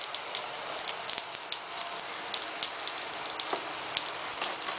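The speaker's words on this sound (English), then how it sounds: "It's raining. I know, it's totally raining." Steady outdoor rain hisses continuously, with scattered droplet ticks spattering on nearby surfaces, heard alone at a moderate level.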